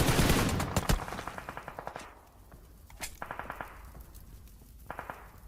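Gunshots in a PUBG Mobile custom room match, a burst of sharp shots up front followed by a few isolated cracks spaced about a second apart, fairly faint against a low background hum.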